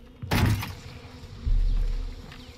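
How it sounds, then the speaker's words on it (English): Bees buzzing near a beehive in the video game Far Cry 5, two swelling bursts of droning buzz rising loud and close, with a low rumble under the second. "What? Bees?"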